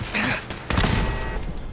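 Automated turrets opening fire in Fallout 4's Nuka-World Galactic Zone, loud bursts of rapid shots in two clusters with a short lull between, close and harsh.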